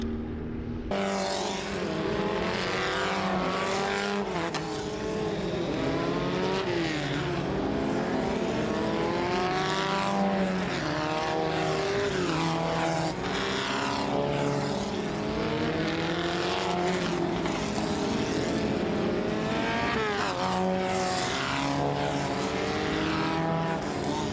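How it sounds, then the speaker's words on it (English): Formula Ford race cars circling a track, engines screaming and rising through gears as several cars pass in close succession, with Doppler sweeps and continuous loud, layered engine noise throughout. "Formula Ford's on track."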